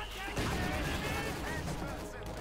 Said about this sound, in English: We got mortar firing in support as well.